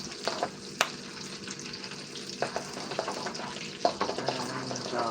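Shrimp fry in hot oil with a continuous close sizzle, sharp pops and spatters breaking through now and then, and no one talking.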